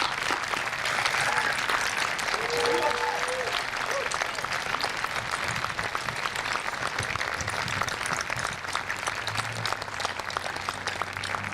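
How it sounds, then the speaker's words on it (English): At a 2014 Memorial Day ceremony, an audience applauds the standing members of the Veterans Committee. The clapping is dense and steady for about eleven seconds, with faint voices mixed in. "let's really give them a round of applause of acknowledgement."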